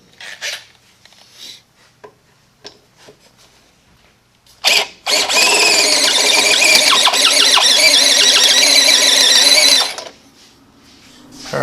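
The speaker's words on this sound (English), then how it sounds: "now we will drill out this hole to make it a little bit bigger in order for the switch to fit" A power drill bores out a hole in a metal plate while fitting a switch for an air ride suspension setup, running as one sustained, loud, whining grind of about five seconds, with a few knocks and handling clatter before and after.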